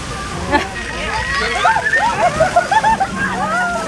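Water from an attraction at Parc Astérix sprays and splashes onto visitors nearby while excited voices and chatter carry on over the sloshing.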